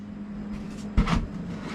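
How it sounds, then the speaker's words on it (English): The door of a home-brew beer conditioning box is pulled open with one short, solid thud and scrape about a second in, over a steady low appliance hum. "Pull the door off."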